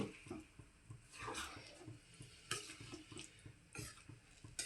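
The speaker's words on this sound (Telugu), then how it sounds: "ఈ రసం వేసేసుకుందామండి ఇది బాగా కలుపుకోవాలి" Soaked tamarind juice poured into a pot of taro and egg pulusu and stirred, with soft splashes and repeated scraping strokes of a spoon against the pot, close and fairly quiet.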